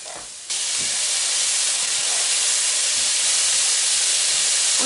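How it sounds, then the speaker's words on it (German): Turkey with peppers and zucchini fries in a hot pan, a loud continuous sizzle and hiss starting abruptly after a brief quieter moment and holding steady to the end. "Und lasse auch einen kurzen Augenblick anbraten."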